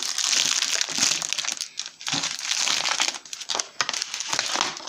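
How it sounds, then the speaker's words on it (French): Paper envelopes being torn open by hand, with loud close crinkling, crumpling and ripping bursts in several bouts separated by brief pauses, without speech. "on va ouvrir les enveloppes"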